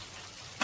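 Onion, curry leaves and garlic sauté in a clay pot for fish curry, a soft, steady frying hiss with a short louder sizzle of stirring near the end.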